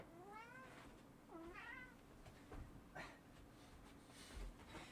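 A pet cat named Taco meows in a bedroom, a few short rising-and-falling meows in quick succession, faint and distant against steady background hiss with a couple of soft knocks.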